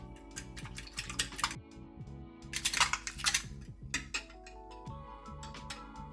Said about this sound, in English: now I'm going to beat in about 80 milliliters of milk